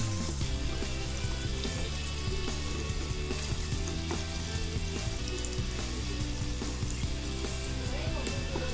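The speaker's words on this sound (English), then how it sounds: "We are going to fry the onions till they are pinkish brown in color." Onions fry loudly in a pan for a karela dish, a dense continuous sizzle and crackle with scattered pops and light stirring clinks, steady from start to end.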